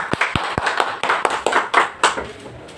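Scattered hand claps from a small audience at a Hindi poetry gathering and honouring ceremony, about a dozen sharp, uneven claps spread over a few seconds, close and fairly loud.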